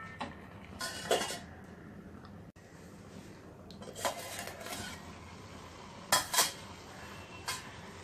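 A spoon stirs foxtail millet in a pot, with scattered metallic scrapes and clinks against the rim, a few louder knocks near the end, all fairly quiet and without talk.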